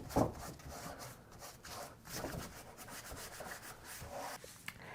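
A cloth rubs chalk paint wax into a painted wooden furniture surface, a soft, steady scrubbing and swishing in close strokes that carries on throughout, faint and intimate with no talking.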